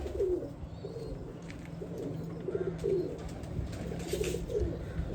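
Pigeons cooing in a low, repeated rolling rhythm, several calls close by over a quiet hum, with no talking.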